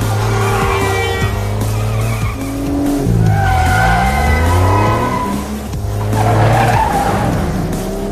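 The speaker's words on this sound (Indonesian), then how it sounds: "Terlihat jelas dengan edunnya Mikel membanting setir menggaspol mobil mengelabui Mul yang terus mengejar mereka." An Audi S7 and a white 2010 Porsche Panamera Turbo 970 in a car chase, with loud, repeated tire squeals and skids rising and falling over revving engines, close and continuous.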